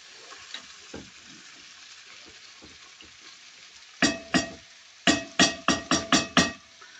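Potatoes frying in a pan give a soft background sizzle, then a run of sharp, loud stirring knocks against the pan in quick succession near the end, with no talk.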